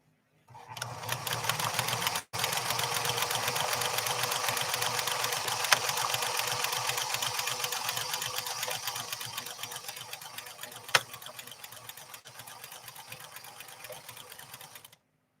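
A PFAFF 360 sewing machine runs a steady test stitch with a continuous fast mechanical whir, pausing briefly once near the start and then carrying on evenly and close by.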